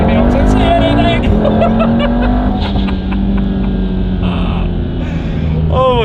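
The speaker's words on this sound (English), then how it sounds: "So the little like pops and bangs, stockish exhaust." Audi TT RS with a tuned five-cylinder making around 500 bhp and a stock-style cat-back exhaust, droning loudly and steadily under continuous talk, with sharp crackling pops and bangs scattered through the run.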